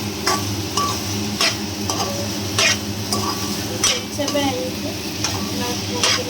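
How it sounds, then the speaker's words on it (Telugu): Pumpkin halwa with cashew nuts being stirred in a pan, a spoon scraping and tapping the metal in a steady rhythm over a soft sizzle, close and clear. "ఇప్పుడు నేను జీడిపప్పు కూడా వేసేసి మిక్స్ చేస్తున్నానండి."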